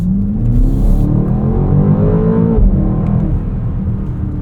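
A 2024 BMW X5 M engine accelerates hard, a loud close interior roar whose pitch climbs steadily, drops sharply at a gear change, then climbs again.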